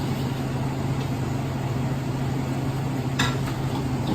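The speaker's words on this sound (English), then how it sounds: "I will continue to blend until all the broccoli florets are incorporated" A blender runs steadily, whirring fresh broccoli florets into a cheddar soup with a low, constant motor drone, loud and close, plus a couple of brief clinks near the end.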